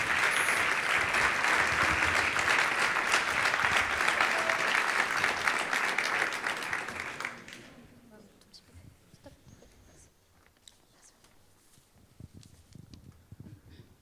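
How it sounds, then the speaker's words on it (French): A crowd at a large public engagement festival applauds loudly and steadily for about seven seconds. The clapping then stops, leaving quieter scattered room noise and faint movement. "Où en sont les applaudissements?"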